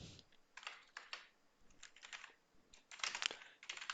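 Someone types on a computer keyboard in quick, uneven bursts of light clicking that come close together and end in a denser flurry, with nobody talking.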